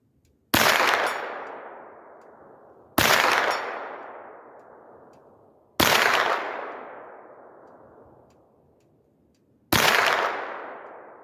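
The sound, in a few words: 9mm Tula Sergeant Major ammunition gunshots hitting steel plate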